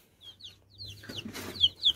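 Backyard chickens clucking in short, high chirpy bursts over a low steady hum, moderately close and fairly quiet, with no talking.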